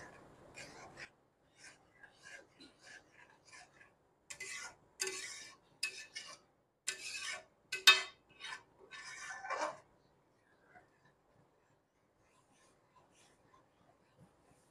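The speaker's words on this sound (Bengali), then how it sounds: "বন্ধুরা, কন্টিনিউ কিন্তু এভাবে নাড়াচাড়া করতে হবে" Taler kheer, a thick palm-fruit milk pudding, being stirred in a pan, giving soft scraping and rubbing strokes in irregular bursts that stop partway through, followed by near silence.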